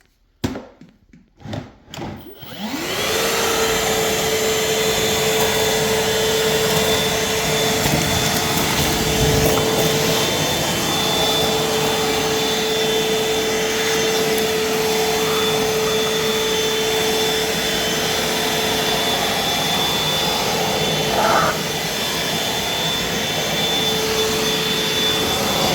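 A Milwaukee M18 Fuel 2.5 gallon wet/dry vacuum gives a few handling clicks, then switches on and holds a loud, steady whine with airy suction rushing nearby until the end.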